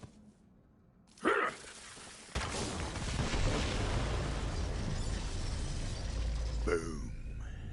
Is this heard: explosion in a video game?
yes